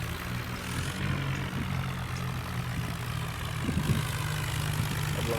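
A tractor engine labors hard while pulling alongside another, a loud continuous low diesel rumble with a slight rise and a few knocks, no voices heard.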